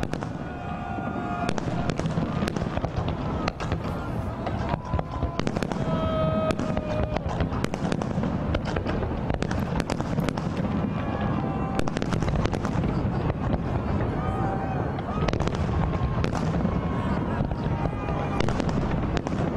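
New Year 2012 fireworks burst over Red Square in Moscow at midnight, a dense, continuous barrage of distant booms and crackling pops with faint whistles, loud and sustained throughout, with crowd voices mixed in.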